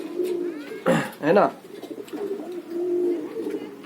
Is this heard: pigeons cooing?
yes